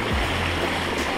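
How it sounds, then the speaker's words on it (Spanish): Rushing waterfall at Molcaxac, a dense, loud continuous roar of falling water heard close up for a brief moment without talk. "toma de Aarón entrando a la cascada"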